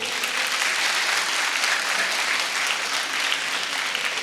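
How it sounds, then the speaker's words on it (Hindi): Loud, sustained audience applause fills the room without a break, a dense wash of many hands clapping at a seminar for a nutrition product company. "जोरदार ताली होना चाहिए"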